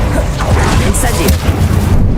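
The Incendio fire spell from the game Hogwarts Legacy bursts out as a loud, dense whooshing boom that fills the whole moment with rumbling crackle.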